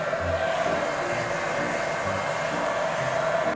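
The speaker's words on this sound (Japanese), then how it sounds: "ドライヤーで頭を乾かしたいと思います。" A hair dryer on its low setting runs steadily while drying hair, powered from a Jackery 1000 portable power station inside a parked car, a constant close whooshing whir with a faint tonal hum throughout.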